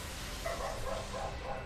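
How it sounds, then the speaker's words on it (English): Dog barking in a game, a short run of yips over a steady, noisy background bed with no talk. "Hey, the dog's awake again."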